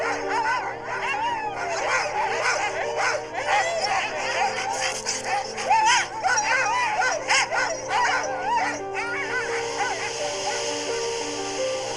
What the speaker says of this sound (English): Greenland dogs are just perfect for these extreme expeditions in the far north.